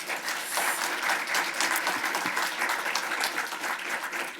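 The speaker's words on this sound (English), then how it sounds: "If we could all give them a round of applause." Audience applause at a talk on electrifying and retrofitting apartments, steady, dense clapping from a crowd held evenly throughout, moderately close and alone without talk.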